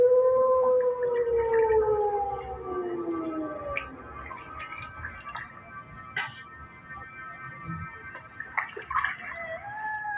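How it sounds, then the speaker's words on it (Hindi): Jackals howl at night in long, rising and falling wails that overlap, loud at first and then fading, followed by scattered yips and calls over a faint background hiss. "ये सियार कितनी डरावनी आवाज में चिल्ला रहे हैं"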